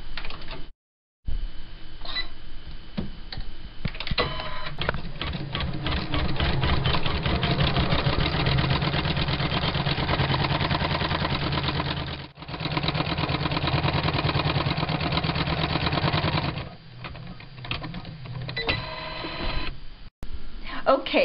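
An embroidery machine stitches a design outline on fabric in pink thread, a fast continuous mechanical rattling that runs steadily and close, with brief pauses.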